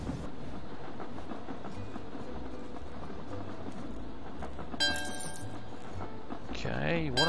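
Trains arriving at stations in the railway puzzle game Train Valley 2, with rumbling, clacking rail noise running steadily throughout, a brief bright chime near the end and a rising tonal sweep at the close.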